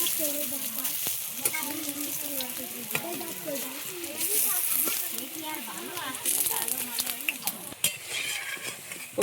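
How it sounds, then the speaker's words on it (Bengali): Taro leaf and drumstick leaf fritters fry in hot oil in a village kitchen, giving a continuous loud sizzle with clinks of a utensil against the pan and a voice talking underneath. "এক এক করে সবগুলো আমি ভেজে নিলাম।"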